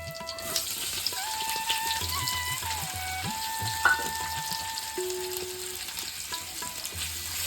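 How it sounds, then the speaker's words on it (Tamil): Onions frying with fennel seeds in oil for squid masala: a steady close sizzle with occasional stirring clinks, a faint sustained tone running underneath and no talking. "வெங்காயத்தை போட்டு நல்லா"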